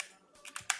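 A few quick keystrokes tapped on a computer keyboard while a folder name is entered, a short close burst of light clicks after a brief pause, alone with no talking.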